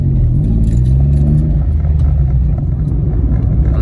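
Car setting off after replacement of its motor mount bushings with strengthened polyurethane ones, heard from inside: a steady, loud low engine rumble and road drone with faint rattles and jingling on top.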